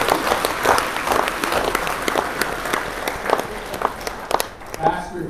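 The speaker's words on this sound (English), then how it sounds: "Give yourself an applause." Church congregation applauding at a 35th anniversary celebration, dense steady clapping throughout with a voice speaking over it.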